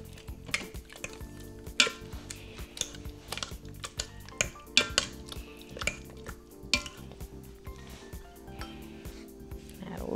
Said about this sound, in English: And you just mash away until that mixture gets nice and thick and creamy.